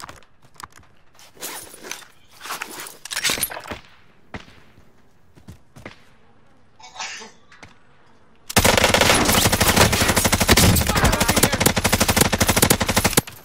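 Gunfire in Call of Duty Warzone starts as scattered sharp single shots and short bursts, then breaks into a loud, dense, continuous stream of automatic fire for the last few seconds.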